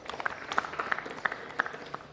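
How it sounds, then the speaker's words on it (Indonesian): A group of students in a physical education class applauds, giving a faint, fairly quick patter of claps that sounds a little distant. "Oke, tepuk tangan kelompok 1."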